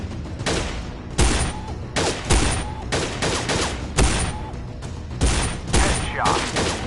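Video-game gunfire on a PS4 cracks out in loud, sharp bursts of several shots each, separated by brief pauses, with a faint voice under the shooting.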